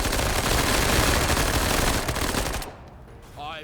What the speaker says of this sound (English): I'm gonna use the SMG here on these guys.